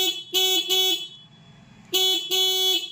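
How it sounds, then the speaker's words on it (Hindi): A dual car horn fitted with a relay and single button sounds in two loud, close bursts, each with a quick double toot, separated by a pause of faint background noise. "जहाँ आप चाहे डबल हॉर्न बजा सकते हैं"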